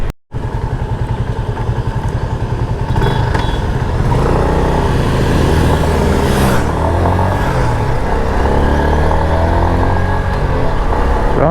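A motorcycle runs steadily along a road toward Libmanan beach in the Philippines, its engine a loud, close, continuous drone with rising revs and wind rush, heard without talk after a brief start-up.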